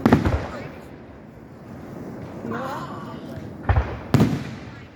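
Fireworks burst nearby from front-row seats, with a loud blast at the start and two more sharp booms near the end, a faint whistling tail in between, and voices in the background.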